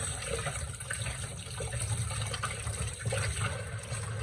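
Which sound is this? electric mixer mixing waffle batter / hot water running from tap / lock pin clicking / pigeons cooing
hot water running from tap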